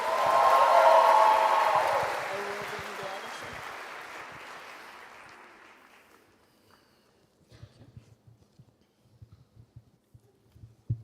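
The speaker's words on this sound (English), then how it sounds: "Please, huge round of applause to both of them." An audience at the opening plenary of the Erasmus Generation Meeting in Ancona gives a loud burst of applause that fades out over about six seconds, followed by scattered footsteps and small movement noises.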